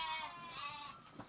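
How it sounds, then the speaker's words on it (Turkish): Black lambs give a soft, wavering bleat at moderate distance, one drawn-out call fading out, with faint rustling behind it. "Kara kuzular."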